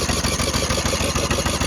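Small lawnmower engine with a smoking exhaust pipe being cranked and running, a loud, continuous rapid chugging with no voices.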